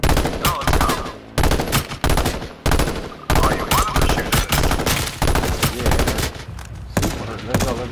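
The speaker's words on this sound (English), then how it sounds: "No, they're shooting at us." H1Z1 Battle Royale video game gunfire, loud automatic bursts with short gaps between them and dense rapid shots throughout.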